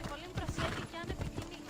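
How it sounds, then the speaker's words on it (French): A horse summoned in Assassin's Creed Odyssey trots in with rhythmic hoof clip-clops and a faint whinny, close and moderately loud, with game sounds around it. "j'ai juste appelé mon cheval"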